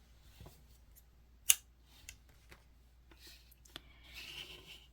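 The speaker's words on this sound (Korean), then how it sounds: "그럼 마지막 부분에 실 잘라주세요." Scissors cut crochet yarn at the end of a bundle of folded strands for a butterfly norigae. One crisp, sharp snip stands out amid a few quiet handling clicks in an otherwise hushed room.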